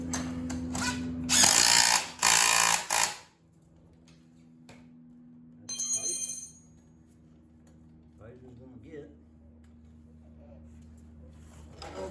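A power tool buzzes in short bursts while tightening exhaust bolts on a Lifan KPR 200 motorcycle, followed by quieter metallic clinks and a low background hum.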